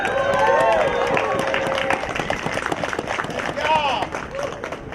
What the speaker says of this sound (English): So I want you guys to applaud for yourselves right now.